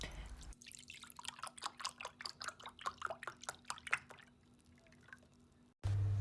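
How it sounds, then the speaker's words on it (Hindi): Juice poured into a mug makes a quick series of close, wet dripping splashes that slow and fade, then stop before a short burst of other noise at the end. "मैं इस वाले जूस को मग में इसलिए डाल रही हूँ"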